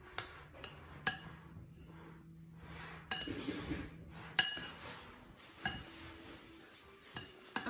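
Potato pasta salad gets stirred in a bowl, with a utensil knocking out scattered sharp clinks and taps amid quiet shuffling, close and fairly soft, with no voices.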